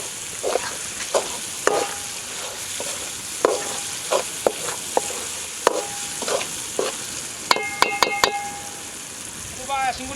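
Whole chillies frying and stirred in a pan of oil, a steady sizzle under repeated scraping and clinking strokes of the spoon, close and fairly loud, with no voices.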